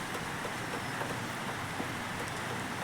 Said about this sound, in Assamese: এইফালে বৰষুণ দি আছে।